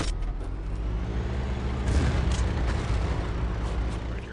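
Heavy artillery in the WWII shooter Battlefield 1942 on the Caen map, a steady deep rumble with a louder boom swelling near the middle, loud and continuous with no talk.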